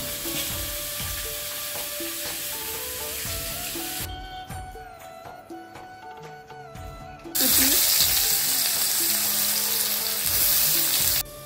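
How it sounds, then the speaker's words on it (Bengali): Onions sizzle loudly in a pan, interrupted midway by a quieter stretch of stirring and clatter before the frying noise swells again. "পেঁয়াজটা ভালো করে ভাজা হয়ে গেছে"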